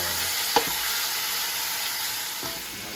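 Steaks sear in a hot pan with a steady, soft sizzle and a faint clink or two from turning them, fairly close and with no talking.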